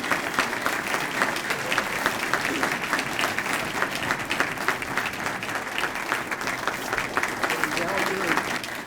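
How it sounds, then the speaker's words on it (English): A luncheon crowd at a Southern California sports broadcasters awards event gives sustained, even applause for a Hall of Fame inductee, many hands clapping at a steady loudness throughout. "Let's bring him up with a nice round of applause."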